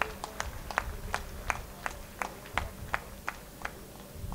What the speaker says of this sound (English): Audience, give them a big round of applause for their academic achievements.